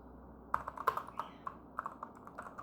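Computer keyboard keys tapped in quick irregular bursts while code is entered, close and fairly quiet, with short pauses between clusters of keystrokes and no talking.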